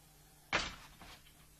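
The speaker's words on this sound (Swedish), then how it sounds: "En automatisk dörrstängare." A door swings shut under a homemade automatic closer that uses a heavy hanging hammer, giving one loud, sharp thud followed by a softer knock about half a second later, close by in a quiet room.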